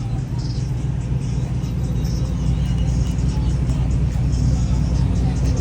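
Cars idling and running outdoors at a car meet, a steady close, deep engine rumble filling the scene without clear pass-bys or sharp revs.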